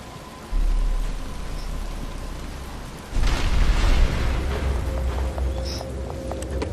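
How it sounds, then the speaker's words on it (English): Rain begins falling in the video game Batman Arkham Asylum, a steady broadband wash that grows louder and denser partway through, with low rumbling underneath and no talk. "But it's starting to rain."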